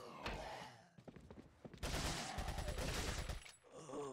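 Gunfire in the Resident Evil 4 video game: a sustained burst of rapid shots fills the middle of the clip, bracketed by heavier thumps and scattered single reports, loud and close.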